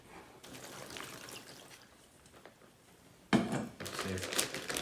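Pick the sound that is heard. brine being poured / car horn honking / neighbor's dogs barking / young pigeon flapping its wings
brine being poured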